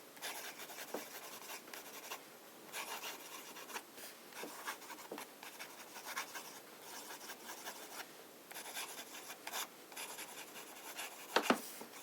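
A broad-nib fountain pen writes on paper with Montblanc Toffee Brown ink, making faint, close scratching strokes in short bursts with brief pauses between them.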